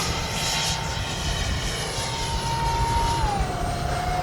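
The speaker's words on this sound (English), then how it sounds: "Good flying little plane." A small X-Fly Raptor twin 40mm electric ducted-fan RC plane whines steadily at a distance over wind noise, flying full speed into the wind. Its pitch dips near the end as it throttles back.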